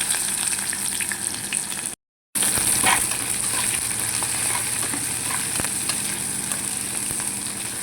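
Onions fry in a pan for a Telangana-style dal curry, giving a steady, close sizzle that holds nearly constant, with faint stirring clinks over it.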